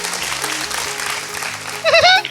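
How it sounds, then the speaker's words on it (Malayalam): A magic and ventriloquism show audience claps in a brief spatter of applause, with a voice rising over it near the end. "ആ കുട്ടി കൈയടിക്കുന്നോ?"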